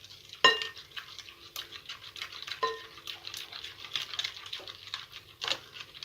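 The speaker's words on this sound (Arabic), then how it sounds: "وهقلبه كمان تقليبه." Yogurt and milk stirred into pancake batter in a bowl, quiet close clinks and scrapes of a utensil against the bowl in an irregular rhythm, with one sharper knock early on.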